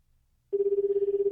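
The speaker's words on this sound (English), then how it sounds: "The phone rings several times." A cell phone in the video game 428 Shibuya Scramble starts ringing after a moment of silence, a steady electronic trill pulsing rapidly and evenly, clean and close.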